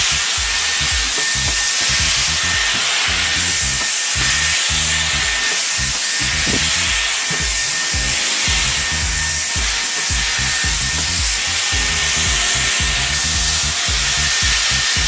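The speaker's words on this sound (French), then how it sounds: "c'est un bon moyen de sécher les cheveux" A Dyson Airwrap styler blowing steadily while drying very frizzy hair: a loud, continuous airy roar that holds level throughout, with faint handling noise underneath.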